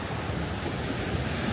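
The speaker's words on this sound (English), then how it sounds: "These waves are so big and powerful." Big, powerful ocean waves surging at a Lombok beach in Indonesia, a steady loud roar of surf with wind buffeting the microphone, no voices.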